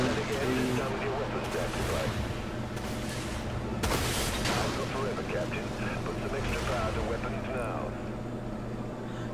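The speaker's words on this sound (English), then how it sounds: "You can fire multiple times. It's 20 shots." A warship weapon in the video game Dreadnought fires repeated shots, a series of booming blasts spaced a second or two apart under a steady engine drone, with someone talking over them.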